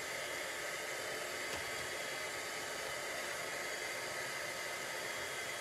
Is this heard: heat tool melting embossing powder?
yes